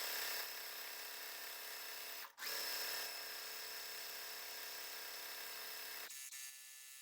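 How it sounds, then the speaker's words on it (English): A sewing machine stitches quilting fabric strips together, a steady close motor hum with a rapid needle buzz that dips briefly once, then runs on and drops in level near the end. "we're going to sew all this 4 fabrics together to make one of our block"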